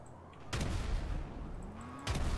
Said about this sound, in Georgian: 4 დარტყმა დამჭირდა, რომ ის ბრონირებული მანქანა ამეფეთქებინა